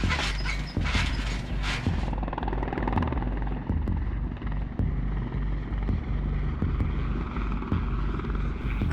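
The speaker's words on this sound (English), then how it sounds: "I like seeing the helicopters fly over our heads." Helicopters fly low overhead with a loud, close rotor thrum and mechanical whine that holds steady throughout, starting with a sharper burst of rotor chop and carrying no voices.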